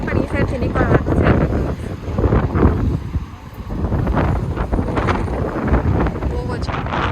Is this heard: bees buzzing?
no